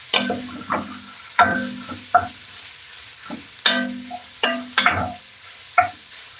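Pozole ingredients stirred in a pot give a series of scraping, clattering strokes with a light sizzle underneath, coming in irregular bursts close to the mic.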